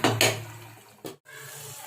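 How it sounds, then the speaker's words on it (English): Water is poured into a pot of Andhra-style mutton curry, with short splashy bursts and clattering against the pot followed by softer sizzling and bubbling, close and with no talk. "Now going to add 1 tea glass of water."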